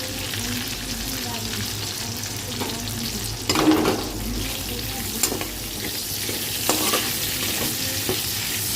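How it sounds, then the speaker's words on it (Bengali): Chopped onions frying with lemon-marinated chicken in a pan give a steady broadband sizzle, with a few louder stirring scrapes and clatters rising above it; no talking. "এবার আমি পেঁয়াজগুলো দিয়ে দেবো।"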